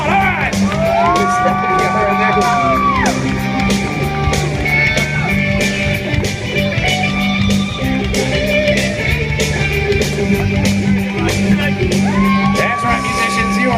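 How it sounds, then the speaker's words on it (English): A loud crowd at a fair comedy hypnosis show shouts, whoops and cheers, with rapid clapping running underneath and a few rising yells cutting through. "the audience gives you a thunderous round of applause"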